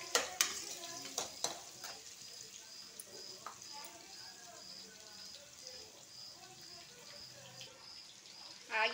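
Onions fry in a pan with a soft, steady sizzle while a utensil scrapes and clinks against it in sharp, irregular knocks, loudest at the start and end.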